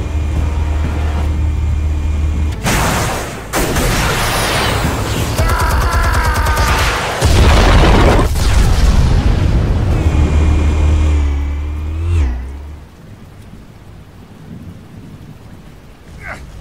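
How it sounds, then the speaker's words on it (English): Explosives detonating in the Batman Telltale Series video game, a sustained roar of heavy booming blasts and rumbling debris that fills most of the stretch before abruptly dropping to a quiet tail. "Explosives armed. Fire when ready."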